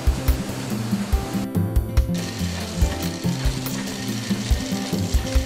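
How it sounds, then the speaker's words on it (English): A loom weaves wicker fabric from paper cord drawn off many rolls at once, a busy factory clatter of rapid ratcheting, knocking mechanisms and rhythmic mechanical thumps that continue without pause. "The loom draws cord from every roll simultaneously to weave the wicker fabric."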